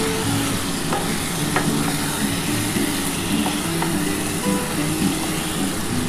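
Spices being fried in oil for a Bengali kosha hiss and sizzle in a steady, close wash of sound, with faint stirring scrapes and no talk.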